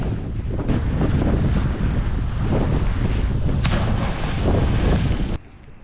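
Rough sea waves and gusting wind at a cliff jumping spot on Virgin Island, Cebu, roaring loudly and steadily without speech, with a sudden drop in level just before the end.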